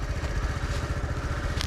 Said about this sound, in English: This is my review of the Honda CT with the lifan engine.